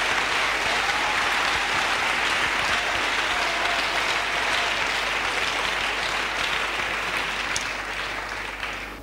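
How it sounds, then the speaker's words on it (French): A church congregation claps for Jesus in sustained, dense applause, loud and even for the whole stretch before fading slightly at the end. "Let's clap for Jesus."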